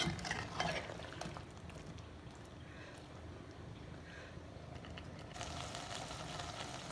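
Potatoes and soybeans roasting in spice masala with ghee in a pan, a steady low stirring and frying rustle with scraping bursts near the start and end, no voices.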